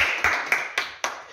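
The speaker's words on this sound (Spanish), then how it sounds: "Un aplauso, por favor." A small studio audience and production crew clap in a few sharp, evenly spaced bursts, roughly four to five distinct strokes over a second, close and dry.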